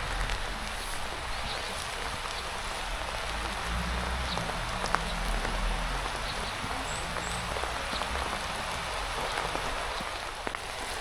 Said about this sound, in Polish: zaczyna znowu tak strasznie lać